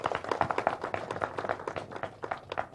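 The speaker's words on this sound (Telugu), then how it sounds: "ఒకసారి గట్టిగా చప్పట్లు కొట్టాలి" An audience claps at a Telugu film teaser launch and press meet, with quick uneven claps from a modest crowd, fairly close and steady throughout.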